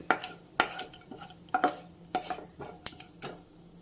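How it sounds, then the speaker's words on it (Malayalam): Fried coconut pieces for payasam are scooped out of a pan, with a metal spoon scraping and clinking against the pan in several distinct close knocks and a faint sizzle underneath. "തേങ്ങാക്കൊത്തും ഏതാണ്ട് മൂത്ത് വന്നിട്ടുണ്ട് ഇനി നമുക്കിത് ഇതും കോരി മാറ്റാം"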